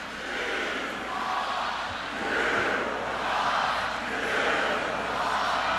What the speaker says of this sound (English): He's allowing this crowd to get into it too.